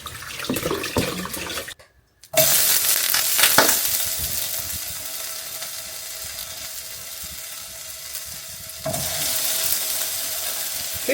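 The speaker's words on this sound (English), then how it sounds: "I'm going to wash them and then just pan fry them." Tomatoes pan-frying, a steady hiss and sizzle close by, mixed with running water and stirring, briefly broken by a pause in the middle.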